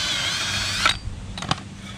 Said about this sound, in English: drill with 3/16